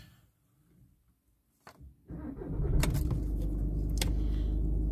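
A red Audi A3 with an S-tronic gearbox cranks briefly after some quiet cabin clicks, then its engine catches and settles into a steady, close idle hum.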